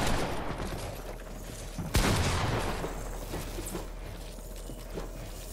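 Muffled rapid gunfire from a Fortnite match crackles in the background, with one sharp close shot near the middle and scattered distant pops after it.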